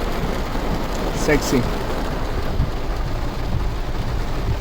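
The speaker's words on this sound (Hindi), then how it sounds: "ये मस्त तेज़ बारिश हो रही है" Heavy rain drums steadily and loudly on a moving car on the road from Chandigarh, a dense continuous hiss with a brief word spoken partway through.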